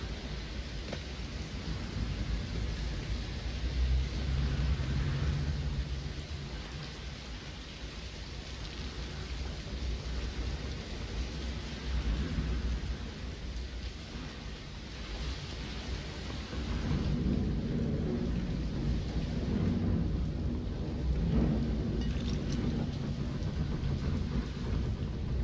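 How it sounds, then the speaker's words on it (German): Steady rain hisses throughout in the video game The Evil Within, with low thunder rumbling in long rolling waves, swelling louder midway. "Regen."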